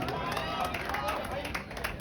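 Crowd at a Bhojpuri entertainment event applauds a singer, a quick patter of many hands clapping with babble of voices, moderately loud and continuous, with people talking in the background.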